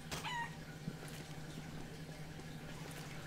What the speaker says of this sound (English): So if we walk outside right now, we can probably find a chicken. And voila, you found a chicken.